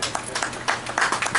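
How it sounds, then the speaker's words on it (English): At an artist blacksmith conference, an audience gives an uneven round of hand claps, a scatter of sharp, close slaps that come in clustered bursts over a second or so. "Everybody give him a hand clap."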